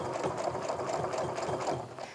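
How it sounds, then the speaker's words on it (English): Home sewing machine stitching a quilt with rulers at a reduced maximum speed, its needle running in a steady, even chatter up close with no talking. "you can hear that the machine is going really steadily"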